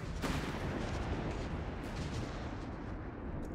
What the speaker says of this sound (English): Flaks and machine guns there opening up